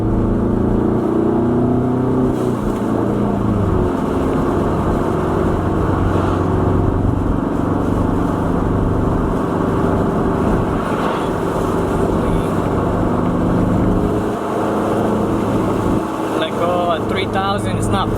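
Ford Mustang EcoBoost fitted with a Turbosmart blow-off valve, steady engine drone from inside the car as the driver lifts off the gas, with no clear flutter and a voice talking over it.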